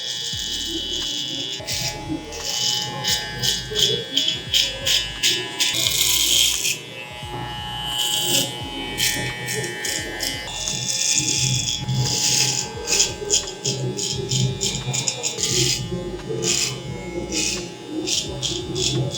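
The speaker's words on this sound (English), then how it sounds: "So I'm gonna start the blend first with my trimmer." An electric hair trimmer blends a beard during a barber's step-by-step cut, its close buzzing rising and cutting off in short bursts, with someone talking over parts of it.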